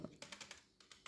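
Quick keystrokes on a computer keyboard during a Windows operating-system tutorial: a short run of crisp, close taps in an irregular rhythm, quiet and alone.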